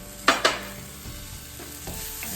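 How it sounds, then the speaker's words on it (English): A shallot cooks in a pan with a low steady sizzle while a utensil stirs it, giving two sharp clinks near the start and a few softer scrapes later, close by with no speech. "Stir up my shallot while it's cooking"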